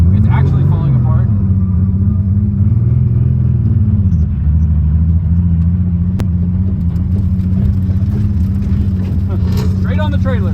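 A damaged Toyota Chaser, previously totalled, drives along with a loud continuous engine drone and road rumble, with faint rattles in the body and small shifts in pitch throughout.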